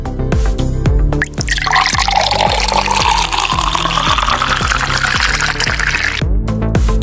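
Liquor is poured into a shot glass in a kitchen while adobo ingredients are being set out, making a close trickling, glugging splash over a steady rhythmic music beat.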